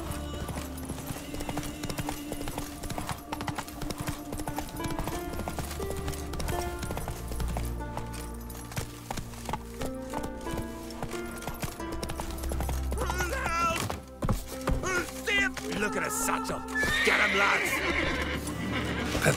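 Roach, the horse in The Witcher 3: Wild Hunt, gallops with quick, continuous hoofbeats and lets out neighs, mixed under game music and effects, with a voice speaking briefly.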